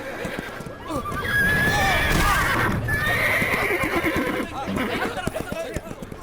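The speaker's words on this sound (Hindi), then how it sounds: "पहले जाके अपने बेकाबू हुए घोड़े को कंट्रोल करो।" An out-of-control horse neighs loudly and repeatedly, with hooves clip-clopping close by and the restless commotion of a crowd in the background.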